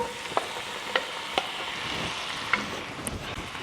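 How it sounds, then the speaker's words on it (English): Sliced apples and onions sautéing in a pot over medium heat: a soft, continuous close sizzle with a few sharp utensil taps against the pot. "I'm just gonna saute the apples just slightly."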